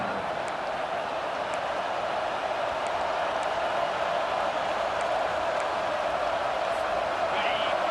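A home crowd at a South Carolina college football game roars steadily through a 3rd-down defensive stand, a dense continuous wash of cheering and noise with no breaks.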